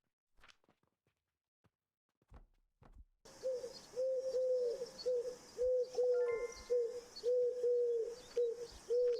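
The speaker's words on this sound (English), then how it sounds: "The pigeons. The pigeons." Pigeons coo in a steady, repeating series of soft warbling calls, close and fairly loud, after a few seconds of near silence with scattered light taps at the start.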